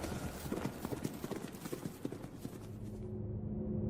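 Horse hooves galloping as a sound effect: a fast, even clip-clop rhythm of sharp hoofbeats, loud and close, thinning out toward the end as a low tone lingers.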